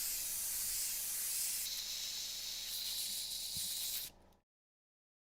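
An airbrush sprays a cup of water through to flush out paint between colors, giving a steady close hiss that brightens partway through and then cuts off abruptly into silence.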